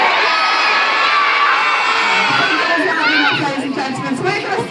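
Theatre audience at a sea lion show at West Midlands Safari Park screaming and cheering loudly, a dense crowd roar with children's high shrieks and whoops rising toward the end.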